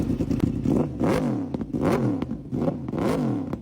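A 2011 Yamaha R1 sport bike with a Movistar purple body kit revs hard and close, its engine rising and falling in repeated sharp blips with a loud, raspy exhaust note and no talking.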